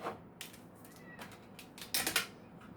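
Tarot cards drawn from a deck, heard as soft close shuffling flicks and light snapping taps, ending in a brief flurry of louder riffles.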